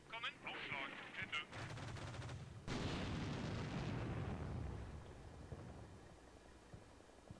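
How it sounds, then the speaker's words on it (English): Burst of gunfire aimed at a Jeep during a firefight in Combat Mission: Shock Force 2, with rapid crackling shots and heavy booming rounds overlapping, then a dense sustained roar of fire that fades into distant rumbling. "Somebody's shooting at the Jeep."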